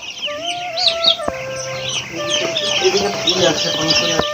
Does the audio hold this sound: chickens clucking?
yes